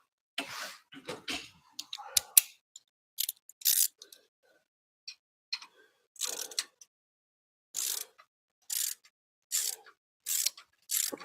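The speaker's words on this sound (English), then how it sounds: "I'm going to change over to a ratchet just for quick and easy" Ratchet wrench clicking in quick bursts while bolts are driven during an alternator change on a limousine, sharp metallic ratcheting spaced through the clip with short pauses, close and fairly quiet, no talking.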